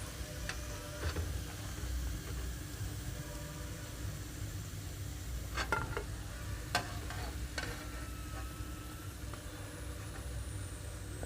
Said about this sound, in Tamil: இந்த புளி இஞ்செல்லாம் போட்டு காய்ச்ச பார்த்து பாருங்கள்